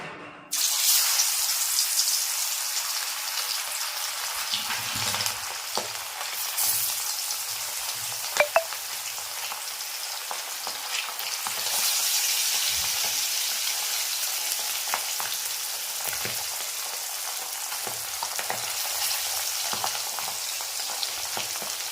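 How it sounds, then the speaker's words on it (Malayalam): Marinated mackerel fries in a pan with a loud, steady sizzle and crackle throughout, with occasional clinks and stirring sounds, close up and without talking. "ഫിഫ്റ്റീൻ മിനിറ്റ്സ് റെസ്റ്റ് ചെയ്യാൻ വെച്ച മീൻ എടുത്ത് ഇനി അടുത്ത് അത് ഫ്രൈ ചെയ്യാനായിട്ട് പോവാം"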